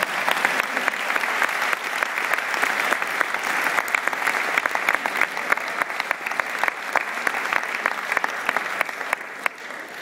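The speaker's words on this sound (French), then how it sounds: "vos applaudissements me calment ma peine" An audience at a troubadour show breaks into sustained applause, a dense, loud wash of clapping that holds steady for the whole stretch with no voices standing out.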